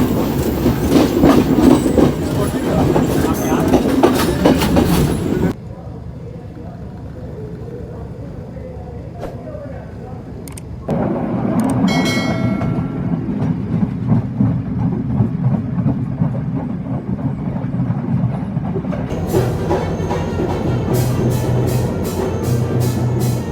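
Passenger train on the Colombo to Badulla line, heard from on board: a loud continuous rumble with rhythmic clickety-clack of wheels over the rail joints, a quieter stretch in the middle, then the clatter returns with faint wheel squeal.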